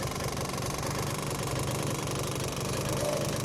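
A small motorbike engine runs steadily through a U-turn, a continuous buzzing drone that stays near and fairly loud with no clear change in pitch and no voices.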